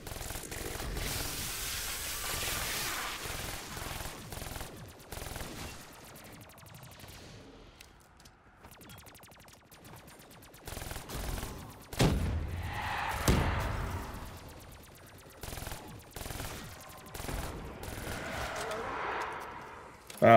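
Rapid bursts of gunfire crackle in Call of Duty: Black Ops III while shooting zombies, volleys of automatic shots coming in uneven clusters with quieter gaps between, over game sounds and a voice talking.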